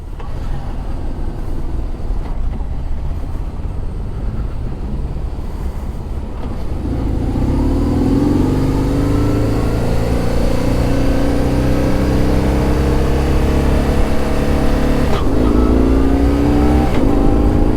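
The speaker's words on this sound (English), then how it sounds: "I'm only quick shifting right now. I've got no clutch." A motorcycle rides on with a broken clutch cable, its engine droning low before revving up in a rising, strained whine and dropping sharply at a clutchless quick shift, then climbing again, loud and close.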